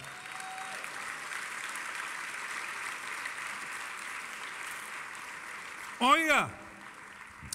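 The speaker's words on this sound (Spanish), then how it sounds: "Denle un aplauso al Señor" A church congregation applauds in a long, steady wash of clapping that runs throughout, with a sung or spoken voice rising briefly near the end.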